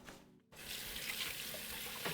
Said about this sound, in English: just gonna rinse my hands